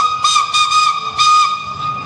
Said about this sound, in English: It's a proper train, proper steam train.